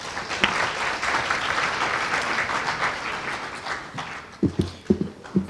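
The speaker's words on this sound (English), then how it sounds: "can you just give her another round of applause?" An audience at a CCMA labour conference applauds in a sustained burst of clapping that fades, followed by a few scattered loud claps.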